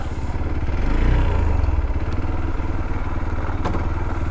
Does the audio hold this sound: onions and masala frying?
no